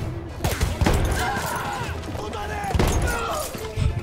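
Several sharp shotgun blasts go off in a video game in quick succession, loud and punchy, with a person talking over the gunfire.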